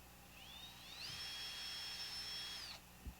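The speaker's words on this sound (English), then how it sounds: "I'm going to drill a little hole right through there" A small drill bores a hole through a nut, its high whine rising as it spins up, then holding a steady pitch for about two seconds before cutting off, close and fairly quiet, with a faint knock afterward.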